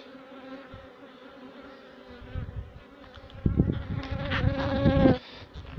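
Dense buzzing of many honeybees around a hive frame, a continuous drone with individual insects flying close and growing louder toward the end.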